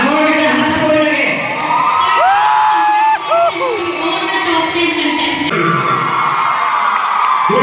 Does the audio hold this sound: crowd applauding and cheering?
yes